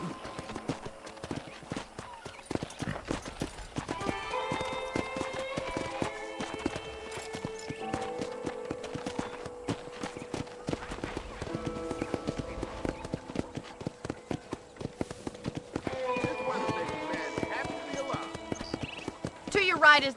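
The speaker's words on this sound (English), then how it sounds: "let's see if you can still ride a horse" Steady clip-clop of horse hooves at a trot in the video game Red Dead Redemption, with an occasional whinny, running under continuous music and a talking voice throughout.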